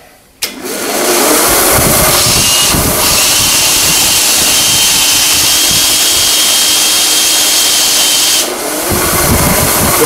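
A loud, high-pitched power drill whirs continuously at close range, cleaning carbon off engine valves, with a brief dip in speed near the start and another toward the end.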